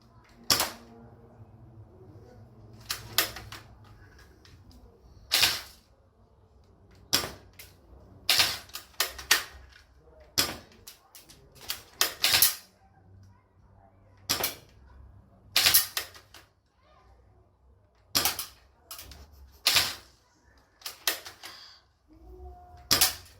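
Gunshots fired in turn during a shooting contest: sharp, isolated cracks, roughly fifteen to twenty over about twenty seconds at irregular spacing, fairly close and loud over a quiet background, with no talking.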